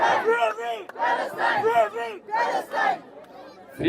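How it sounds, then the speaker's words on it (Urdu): Protest crowd at a sit-in for Palestine at D Chowk, Islamabad, chanting slogans in loud rhythmic bursts, several shouted phrases with short pauses between them, close and forceful. "فری پاکستان کے نعرے لگائیں نا."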